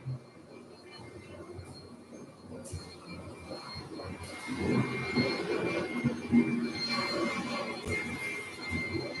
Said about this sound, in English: So I'm going to ask after this to shut off the vacuum.